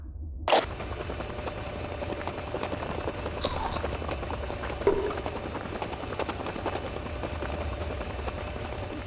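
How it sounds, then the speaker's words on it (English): A Mercury outboard motor on a walleye fishing boat in New Mexico runs with a steady, even drone throughout, with a few brief knocks and splashes over the hum. "Mercury engine test."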